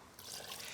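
Room-temperature water is poured into a vegan tart dough of flour, oil and water, a soft close trickle and splash lasting under a second.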